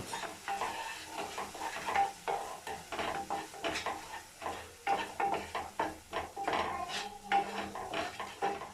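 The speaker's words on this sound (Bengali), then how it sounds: "সমস্ত উপকরণ আবারও খুব ভালোভাবে নাড়াচাড়া করে নেব" Spices with salt and Kashmiri chili powder stirred in a pan of oil, a repeated rhythmic scraping of a spatula against metal over a soft sizzle, close and steady, no talk.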